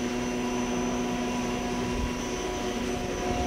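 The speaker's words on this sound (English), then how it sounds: "I'm going to run it for you. The spindle right now is running at 500 RPM." A Miyano BND34T5 CNC turning center with its spindle running at 500 RPM produces a continuous, even machine hum with steady tonal whines over a low mechanical rumble.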